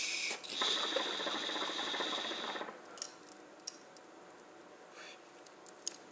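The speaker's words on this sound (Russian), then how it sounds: "При продувке я слышу, как играется там шарик." A rapid rattling whir of air as a hookah is purged, its small ball valve clattering inside, lasting a couple of seconds, followed by faint clicks and taps.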